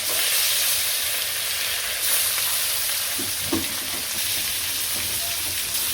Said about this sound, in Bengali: তো এই যে তেল গরম হয়ে গেছে, মাছগুলো দিয়ে দিই